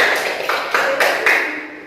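Classroom applause for a student named Putri after her summary in a junior high science lesson on classifying living things, a short burst of close clapping with several sharp accents.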